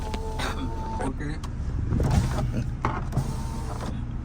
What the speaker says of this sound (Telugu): ఇదిగోండి 4 పవర్ విండోస్ వస్తాయి